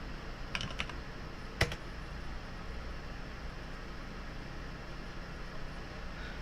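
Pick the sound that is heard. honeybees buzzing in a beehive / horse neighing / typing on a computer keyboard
typing on a computer keyboard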